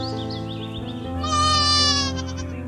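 A goat bleats in a drawn-out, wavering cry that rises into a louder, strongly tonal middle section before tapering off, heard close and alone.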